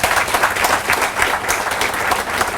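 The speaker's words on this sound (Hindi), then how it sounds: "जोरदार तालियां होनी चाहिए रैक्स सर के लिए।" Loud, sustained applause from a crowd at a motivational training session in Mumbai, many hands clapping in a thick, even roar with no voices on top.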